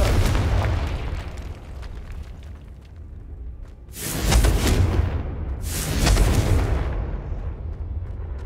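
Confringo blasting spells exploding in Hogwarts Legacy, two loud, booming bursts each rolling out for about a second over a steady rumbling game background, with no talking.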